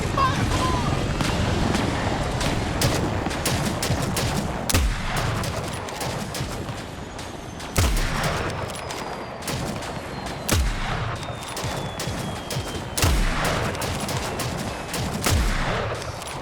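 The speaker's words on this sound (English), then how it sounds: "We're taking fire!" Heavy gunfire in a Fallout 4 battle, repeated sharp shots and bursts with booming low impacts spread across the scene, loud and close, with voices talking over the fighting.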